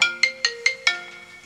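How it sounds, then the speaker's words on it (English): A phone ringtone chimes in the background of a workshop during a clock-making project, five quick bright electronic tones in a steady rhythm, each sharply struck and then fading, with nobody talking. "Obviously, there's a phone call kicking."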